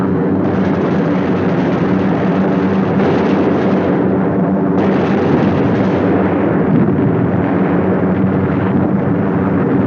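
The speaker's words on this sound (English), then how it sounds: "The third task force comes over its target at Danzig. Bombs away." Continuous heavy rumbling roar from bombs exploding on the harbor target at Danzig during a World War II air raid, loud and dense with aircraft engine drone blended in, no clear individual blasts.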